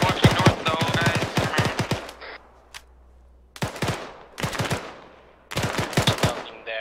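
Repeated automatic gunfire in the military video game Arma 3, crackling in dense loud bursts separated by short pauses, with gunshots echoing out after each volley.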